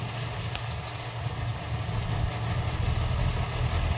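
A tractor engine idles steadily in a wet paddy field, giving a continuous low, throbbing rumble at close range with no talking over it.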